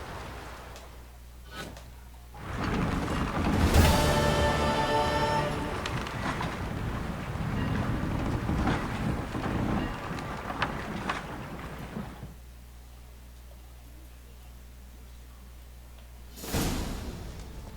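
A boat sets sail in The Witcher 3, with a rushing swell of water, wind and creaking hull rising loudly for several seconds, easing into a low wash, then a brief surge near the end.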